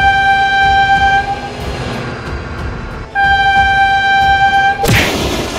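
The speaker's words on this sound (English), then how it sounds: "Oh my god, train!" A cartoon train roars past with loud rumbling and a long steady horn blast, the horn stopping and sounding again before a sudden crash-like burst at the end.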